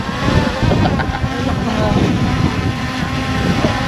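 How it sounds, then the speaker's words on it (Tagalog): Loud, steady wind roars across the microphone in heavy gusts, a dense rushing noise that drowns out everything else. "Strong wind."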